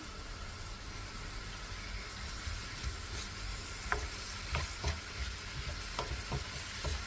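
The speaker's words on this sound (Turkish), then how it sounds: "Normal ateşte soğanlarımı kavuruyorum." Steady sizzling of salted onions sautéing in a pan over medium heat, a constant hiss with occasional soft clinks and stirring taps, close by and without talk.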